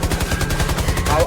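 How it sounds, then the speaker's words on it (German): Rapid automatic gunfire in the video game Back in the Swamp, a loud fast rattling burst of evenly spaced shots running without pause. "jetzt komm, schieß alles weg"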